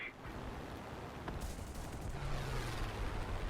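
Aircraft guns firing in War Thunder during a head-on dogfight pass, a sustained rattling burst over steady engine drone, close and moderately loud.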